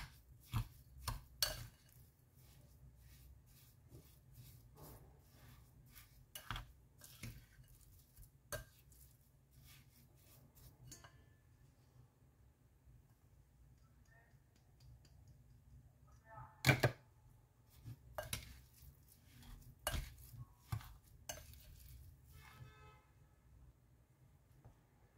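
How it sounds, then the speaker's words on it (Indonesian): A utensil stirs sweetened batter for a street snack in a bowl, giving faint, sparse clinks and scrapes at irregular intervals over a quiet background. "Aduk semua."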